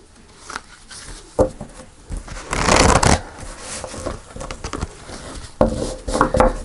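Tarot cards are shuffled and laid out, with soft papery rustling, sliding and a few light slaps on a surface, close and fairly loud.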